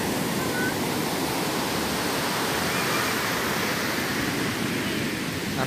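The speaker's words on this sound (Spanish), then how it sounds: "Estoy en el mar." Steady broadband roar of sea surf breaking on a beach, loud and continuous without clear gaps between waves.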